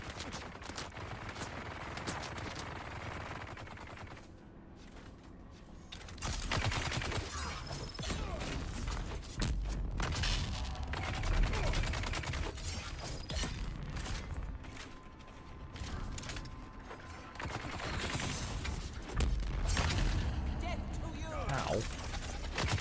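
Heavy gunners firing in Dune Awakening, bursts of rapid gunfire and clattering mechanisms rising and falling over about twenty seconds, with a player talking throughout.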